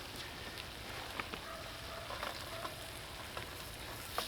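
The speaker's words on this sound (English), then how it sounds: "I need to put my chipped beef in the pan" Chipped beef frying in a pan over a bushbox stove, a steady crackling sizzle with small pops and occasional faint stirring taps, fairly quiet and continuous with no voices.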